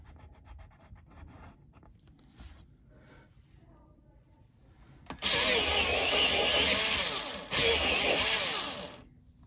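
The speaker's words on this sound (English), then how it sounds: "just have to sharpen my pencil right there" A pencil being sharpened in a sharpener during a drawing session: quiet scratching at first, then two loud, rough grinding bursts at close range, the second following a brief pause.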